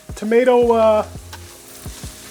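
Tomato paste frying in a pot for Manhattan clam chowder sizzles softly under a few spoon knocks and scrapes as it is stirred, with a brief burst of speech near the start.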